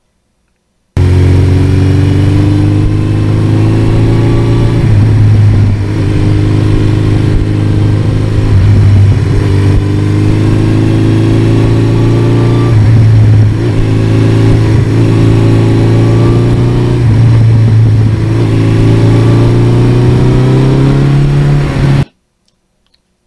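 Suzuki GS1100E motorcycle engine on a test ride, running loud and steady for about twenty seconds with repeated rises in revs as it accelerates through gears, no talking over it.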